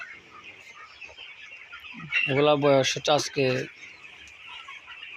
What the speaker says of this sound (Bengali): এগুলো হচ্ছে আমাদের এখন ব্রয়লার মুরগির বাচ্চাগুলা